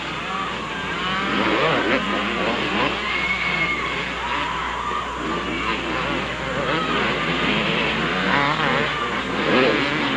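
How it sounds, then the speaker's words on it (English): Intermediate-class motocross motorcycles racing on a track: a loud, continuous, layered engine roar with revving and shifting pitches from several bikes, under a commentator's voice. "Johnny Montez all alone on the number 182 machine, leading the intermediate field."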